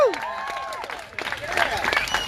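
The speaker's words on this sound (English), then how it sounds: "Give him a huge round of applause, guys." Crowd at an outdoor protest rally claps and cheers, with raised voices and shouts mixing over the clapping, which swells in the second half.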